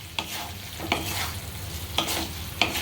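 A vegetable curry with green coriander is stirred in a pot, with four close scraping strokes of the spoon over a soft, continuous sizzle.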